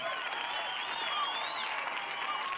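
Studio applause celebrating the NCAA 25 release date, a steady dense wash of clapping held at an even level for the whole stretch, with no talk over it.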